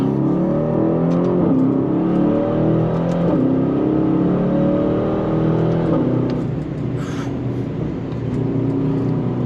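An Aston Martin DBX 707 SUV accelerates hard under manual shifting, its engine note climbing steadily and dropping at each of several gear changes, loud and continuous from inside the car on a hot day, with no talking.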